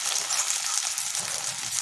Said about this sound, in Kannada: ಇವಾಗ ಈ ಹೆಚ್ಕೊಂಡಿರೋದನ್ನು ಈ ಒಗ್ಗರಣೆಗೆ ಹಾಕ್ಕೊಂಡು ತಿರುಗೋಣ.